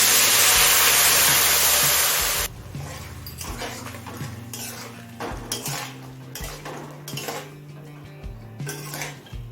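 Vegetables and egg curry are mixed with water in a pot: a short burst of hissing, then repeated clanks and scrapes of a spoon against the metal pot in an uneven rhythm, close by.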